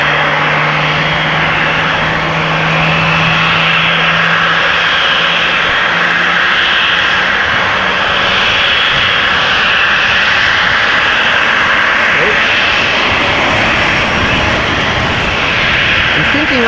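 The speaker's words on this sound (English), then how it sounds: "I'm hearing the GE90 spool-up sound" A widebody jet's GE90 engines spool up at Amsterdam Schiphol airport, a loud continuous roar and whine that holds steady throughout, heard from a distance with a low hum fading out early on.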